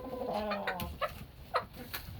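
A bunch of aggressive hens clucking at close range, a dense run of harmonic cackles in the first second followed by a few sharper, separate clucks spaced through the rest.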